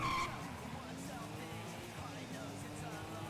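A modded car in the FiveM video game accelerating hard with a rising engine whine and tire squeal, steady and moderately loud after a brief louder burst at the start.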